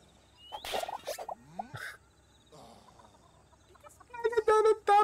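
Chickens cluck in the video game Lumbearjack, with a quick burst of clucks near the end after assorted cartoonish game effects, fairly faint overall.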